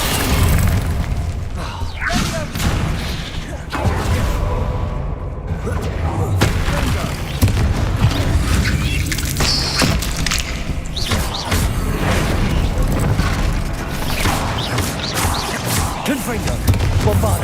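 Confringo spell blasts in Hogwarts Legacy go off as dense, rumbling booms in a constant wash of noise, with a voice speaking over them.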